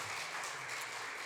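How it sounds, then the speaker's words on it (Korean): A church congregation claps in thanks, a faint, even wash of many hands heard from a distance for a brief moment. "우리 박수로 우리 감사의 뜻을 우리 표현하기를 원합니다"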